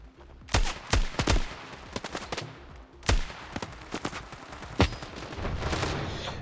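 Loud bursts of gunfire in Standoff 2 in several quick volleys with pauses between, sharp and close, over a low rumbling background.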